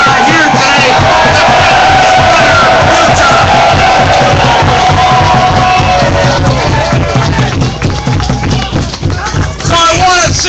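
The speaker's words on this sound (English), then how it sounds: "All of you should give our young people a round of applause for the kids that are here today." A large crowd at a Caterpillar Electro-Motive Diesel lockout rally cheers and applauds loudly and continuously, with shouts and whoops in a dense roar that dips briefly near the end.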